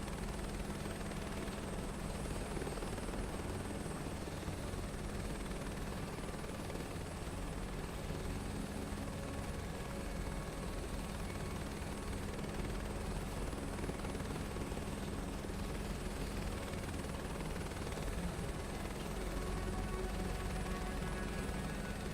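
In Microsoft Flight Simulator 2024, a helicopter approaching a helipad gives a loud, continuous rotor and engine drone that holds steady throughout, with no talking.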